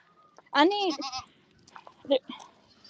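Goats on a farm, among them young kids about a week old, give a loud wavering bleat up close, followed by shorter fainter bleats and small noises.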